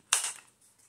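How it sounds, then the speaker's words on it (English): A handheld corner rounder punch snaps down on the corner of a paint sample card being made into a journaling card, giving one sharp close crunch followed by a faint trailing rustle. "let's round the corners"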